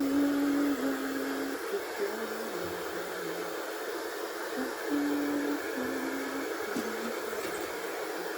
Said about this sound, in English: I've decided to go with a hair dry option